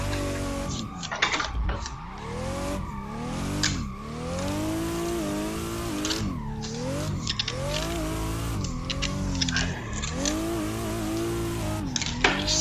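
Race car in Assetto Corsa on YZ West Circuit, engine revving up and down repeatedly through gear changes with rising and falling pitch sweeps, loud and continuous with occasional tire squeal.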